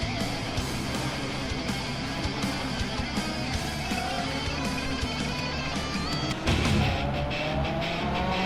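Lamborghini Aventador cars race, likely in a video game, with a continuous roaring engine drone and rising gear whines. Brief tire squeals and a louder surge suggest a car passing close by.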